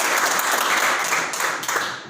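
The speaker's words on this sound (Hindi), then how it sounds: "तालियां इनके लिए।" Audience applause breaks out at a motivational talk, a short, loud wash of clapping that tapers off toward the end.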